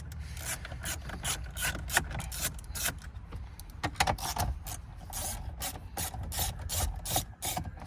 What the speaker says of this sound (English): you're just going to use a 10mm ratchet to quickly undo those